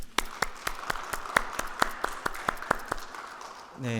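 A small church congregation at a Friday prayer service claps in a steady, even rhythm of sharp individual claps, fairly close. A voice begins speaking right at the end.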